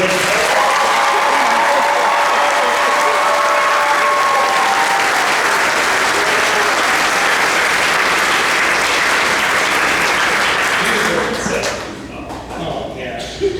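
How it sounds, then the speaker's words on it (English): Sustained audience applause at a high school spring concert, loud and dense clapping with some scattered cheers, tapering off into a quieter shuffle near the end. "can we get a round of applause for Mr. Baker real quick?"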